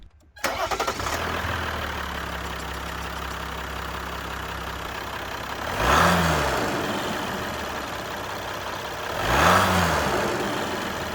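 The V6 turbo diesel engine of a 2023 Jeep Gladiator JT pickup turns over and settles into a steady idle, rising twice in brief revs a few seconds apart.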